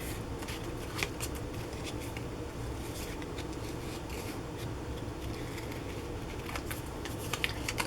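Scissors crisply snipping paper ephemera for a steampunk junk journal, giving quick close snips and rustles over steady low background noise.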